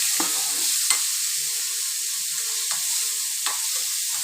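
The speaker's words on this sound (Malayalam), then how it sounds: "പച്ചമുളകും സവാളയും ചേർത്ത് ഇട്ട് കൊടുക്കാം. നല്ലപോലെ വഴറ്റിയെടുക്കണം." Curry leaves, garlic, green chili and onion sautéing in a pan, a soft continuous sizzle with a few scraping stirs of a spoon against the metal.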